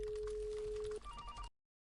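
A phone line calling a personal mobile: a steady electronic tone for about a second, then a higher, broken ringing pattern that cuts off abruptly into silence.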